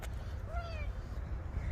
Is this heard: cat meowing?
yes